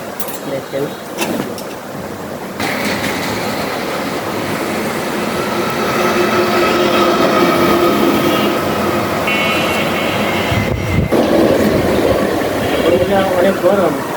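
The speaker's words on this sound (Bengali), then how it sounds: "অনেক গরম, কিন্তু আমি ট্রেনে ঘুরছি" A train riding on rails in hot weather, with a steady loud rumble and rattle of the carriage throughout and brief brake-like squeals near the end; a voice talks over it at times.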